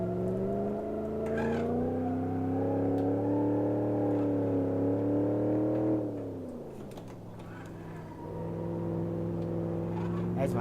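In the BeamNG driving game, a manual car's engine revs loud and steady with a strained whine, then drops sharply as the clutch is dumped. The engine bogs briefly, then picks back up as the car launches.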